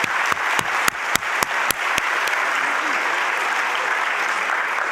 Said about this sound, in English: I want to make sure we give a big round of applause to all the students of